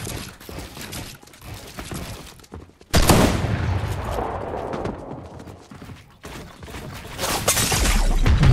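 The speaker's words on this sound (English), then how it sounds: "Wow, I have gotten sniped" Sniper rifle fire in a video game, with sharp, loud cracks and clattering mechanical bursts over a busy game soundscape, without talk.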